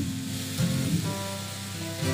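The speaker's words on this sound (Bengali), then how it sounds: "দেখুন আমার ভাজাটা প্রায় হয়েই এসছে।" Steady frying sizzle from pumpkin dry-frying in a pan without water, a continuous crackling hiss at close range with no voices.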